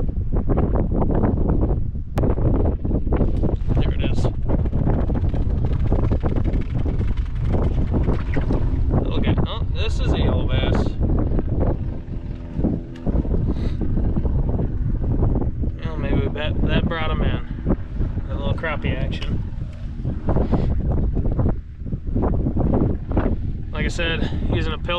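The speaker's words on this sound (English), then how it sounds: "there is 15 mile an hour winds roughly" Strong, cold wind of about 15 mph gusts steadily across a frozen Minnesota lake during ice fishing, a loud continuous rumbling buffet on the microphone with brief lulls and some talk beneath it.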